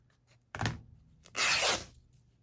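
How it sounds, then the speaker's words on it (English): Paper being torn by hand for a junk journal cover, with two close rips: a short tear first, then a longer, louder rip after a brief pause. "let me just rip it here"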